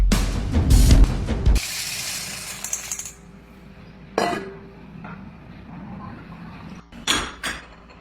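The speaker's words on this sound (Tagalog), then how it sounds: "kapag nagpingkian ang mga gold bars, ganyan talaga ang mga tunog niyan" Several bright, fairly high-pitched metallic clinks of gold bars striking together, a loud cluster at the start, then scattered single taps with quiet gaps between.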